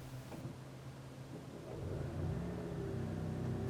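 A 2017 Lexus RX 450h hybrid powers on, its engine catching smoothly about halfway through and settling into a soft, steady idle hum, close and quiet with no talking.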